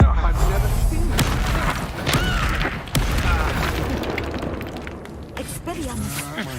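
An Expulso explosion spell is cast in the video game Hogwarts Legacy. Heavy booms and crashing debris come through close and loud, mixed with a talking voice.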